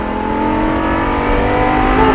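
A Lamborghini LP560-4 V10 at full throttle on a racetrack, a loud steady engine drone climbing slowly in pitch as the car accelerates, close and without talk.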